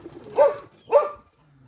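A pair of short pigeon coos, close and clear with a brief pause between them, and nothing else around them.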